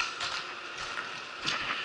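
A ventilation fan hums steadily in a farm building, a broad, constant whooshing drone that runs throughout, with faint mechanical knocks and rattles mixed in close by.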